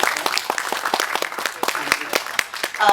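People at a book launch event give a burst of applause, brisk dense clapping at close range that ends with a brief voice.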